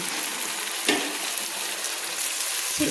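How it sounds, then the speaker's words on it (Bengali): Ginger-garlic spice paste fries in hot oil with a steady, crackling sizzle, interrupted briefly by a stirring scrape near the start and again at the end. "পেস্ট করা মশলাটা তেলের মধ্যে দিয়ে আমি কষিয়ে নিচ্ছি।"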